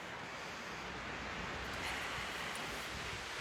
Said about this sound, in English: So there's a lot of wind happening around me. You might hear it.